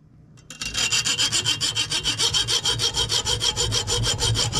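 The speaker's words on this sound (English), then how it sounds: "I put it in the vise, use my saw." A hand saw cuts through a lead sinker weight clamped in a vise, a fast, even run of close rasping strokes that starts abruptly after a brief quiet moment.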